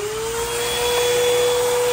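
A thrift-store vacuum cleaner with a clogged hose runs with a loud, steady motor drone and a high, constant whine, close and unbroken throughout.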